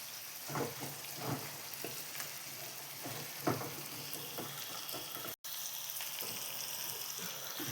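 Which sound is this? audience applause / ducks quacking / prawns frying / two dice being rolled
prawns frying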